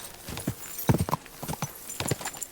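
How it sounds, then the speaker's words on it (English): Horse hooves clip-clop in a fast galloping rhythm in the video game Kingdom Come: Deliverance 2, with the horse newly fitted with horseshoes, steady and close throughout. "My mighty steed is now galloping properly now."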